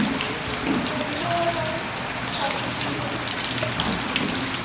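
Heavy monsoon rain pours down at the old Triloknath temple courtyard in Himachal, a loud, continuous hiss of drops drumming on surfaces, with faint voices now and then beneath the downpour.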